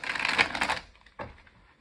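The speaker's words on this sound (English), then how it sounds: "I tried to do a quick shuffle on camera as well" A rapid flurry of card riffling followed by a short pause and a second, quieter burst of shuffling, close and crisp with no voices.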